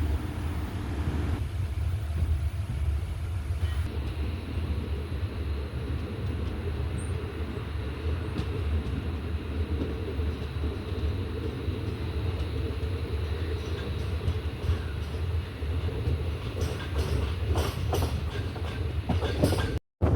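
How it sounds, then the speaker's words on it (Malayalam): The Amritha Express train running at speed, heard from inside a coach as a steady loud rumble with continuous clickety-clack of wheels over the rails, unbroken for the whole stretch. "ട്രെയിൻ നല്ല സ്പീഡിലാണ് പോകുന്നത്"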